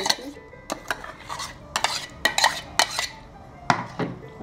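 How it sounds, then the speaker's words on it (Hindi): Coarsely ground beet and tomato soup mixture being stirred and pressed through a metal strainer, giving a run of sharp utensil scrapes and clinks against the mesh and bowl, close and fairly loud, with no talking. "और इसे इस तरह से मिक्स करूंगी ताकि इसका सारा पल्प जो है नीचे आ जाए"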